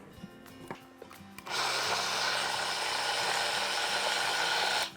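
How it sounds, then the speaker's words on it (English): A kitchen blender whirs steadily for about three seconds as it purees butternut squash, celery, onion and parsnips with a little water, starting abruptly after a quiet moment and cutting off near the end. "and we blend it"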